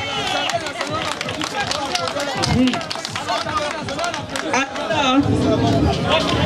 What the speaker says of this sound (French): Applaudissez très fort pour Abanda.